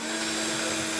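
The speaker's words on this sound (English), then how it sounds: "Stick a cordless drill to it." Cordless drill spinning food for peeling in a home kitchen, a steady continuous whirring motor drone with a fixed tonal hum, close and constant throughout.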